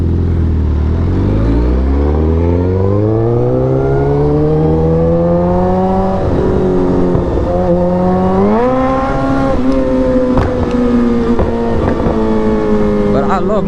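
A motorcycle fitted with aftermarket parts and running a 93-octane tune roars loud and close while riding, its engine note climbing steadily in pitch as it accelerates, then holding a strong, continuous drone.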